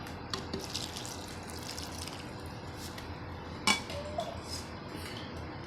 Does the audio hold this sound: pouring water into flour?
yes